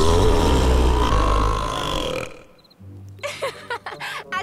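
A cartoon bear lets out a long, loud, low burp lasting about two seconds, followed by quieter background sounds and brief voices in an animated outdoor camping scene.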